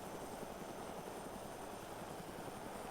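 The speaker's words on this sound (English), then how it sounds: "Bring the helicopter to a steady hover." A helicopter holds a steady hover just before descending, its rotor and engine a constant, even drone with no other sounds.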